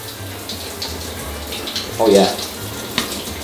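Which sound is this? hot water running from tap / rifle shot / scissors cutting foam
hot water running from tap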